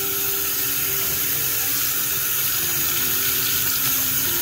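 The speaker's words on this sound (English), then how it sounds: "Now I wash my rollers out all the time" Paint rollers are washed out under running water, a steady broadband rush of water from a tap flowing continuously and fairly loud throughout, with no talking.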